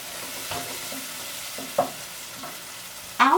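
Tomato sauce for macaroni is stirred and sautéed over low heat in a wide pot, a soft, steady sizzle with scraping stirs and a few clinks of the utensil against the pot.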